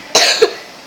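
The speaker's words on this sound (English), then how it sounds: "I just got cough" A single sharp cough from close up, followed by a brief throat sound and the start of a second cough, with no talk.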